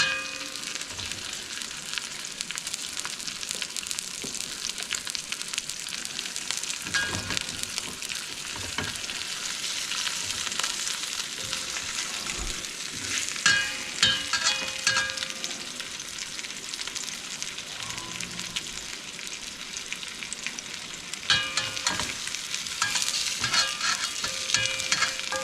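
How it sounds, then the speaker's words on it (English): Oxtail searing in a hot pan for Cuban rabo encendido, a loud, steady sizzle and crackle that runs throughout, with occasional scraping and stirring close by. "what we want to do is get a good sear on them"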